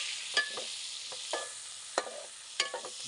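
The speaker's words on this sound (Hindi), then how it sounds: "आधा किलो प्याज हैं जी, इनको इसी ऑयल में ब्राउन कर लेने।" Half a kilo of onions frying in oil in a home kitchen pan, a steady close sizzle broken by several sharp stirring scrapes at irregular intervals, with no one talking.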